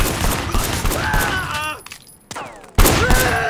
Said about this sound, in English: There was a shooter, firing shots from the passenger window.